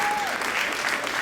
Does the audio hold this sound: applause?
yes